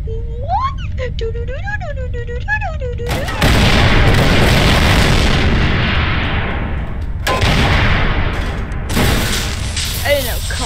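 Loud, deep booms of explosions or artillery-like fire roll through a neighborhood, several heavy blasts in a row with long rumbling tails, following a stretch of whistling tones near the start.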